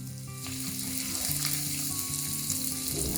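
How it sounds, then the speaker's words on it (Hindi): Onions and curry leaves fry in hot oil over a high flame, giving a dense, loud, continuous sizzle and crackle close by, with some faint clinking and tonal kitchen noise underneath. "तो बस अब इस प्याज को वो लाल करने वाली हैं। साथ में डाल दिया है करी लीव, साथ में पकेंगे।"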